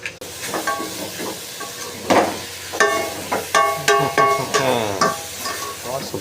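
Tomato, chilli and curry leaves going into a hot pan, with loud close sizzling and spattering, repeated stirring and scraping strokes, and a few sharp clinks of utensils.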